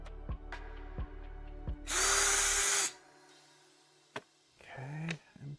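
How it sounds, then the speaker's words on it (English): A power drill bores through a 3D printed part for a Casadio Unimog RC truck build, giving one loud whirring burst of about a second amid quieter clicks and taps, with a brief second buzz near the end. "Drill through this."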